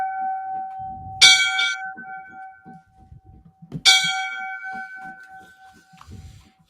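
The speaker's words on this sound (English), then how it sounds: "we're going to give my man here the 5 bells" A memorial bell for a fallen firefighter is struck twice, each bright clang ringing out and slowly fading over a faint background.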